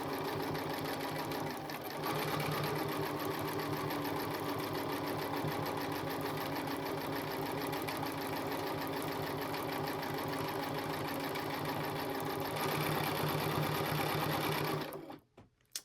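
A sewing machine with an even-feed walking foot stitches through thick layers of a mini oven mitt, running as a steady, fast mechanical whir for about fifteen seconds before stopping abruptly.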